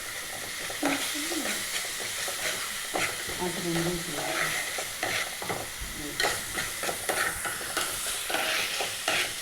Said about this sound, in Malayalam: 6-7 ചെറുള്ളി, അതുപോലെ തന്നെ വെളുത്തുള്ളി പച്ചമണം മാറുന്നത് വരെ വഴറ്റുക.